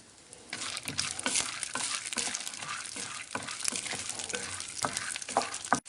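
Peanuts and red chillies frying in oil in a pan while a spoon stirs them: a steady, crackling sizzle punctuated by repeated scraping strokes, close and without talk.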